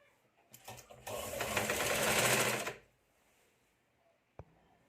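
A sewing machine runs in one steady burst of about two seconds while stitching finishing tape along a blouse neckline. It starts after a few faint clicks, stops abruptly, and a single sharp click follows in the quiet.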